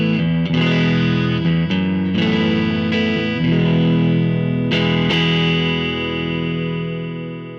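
Electric guitar through a Vibro Lux neural amp sim on the bright channel, 3x10 cabinet voicing, chords and picked notes ringing with slight grit and chorus-like shimmer, sustaining into a long fade.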